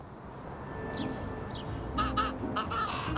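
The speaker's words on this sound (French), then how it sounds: "J'ai trouvé le corbeau!" A crow in the video game Little Kitty Big City caws in a rapid series of harsh, rasping calls, loud and near, following a couple of faint chirps over a steady ambient hum.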